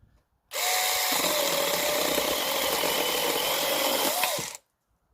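A Craftec mini chainsaw cuts through wood in one loud, steady burst of about four seconds, its motor whining at a constant pitch with a brief rise just before it stops abruptly.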